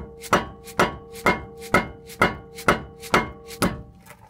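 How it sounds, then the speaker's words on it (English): A plastic dead blow hammer knocking on the rear brake hub of a 2017 Ford Transit van, eight evenly spaced, sharp, loud thuds close up, with a faint steady hum underneath. "Got my plastic dead blow hammer, and I'm gonna just knock on this hub to rotate it"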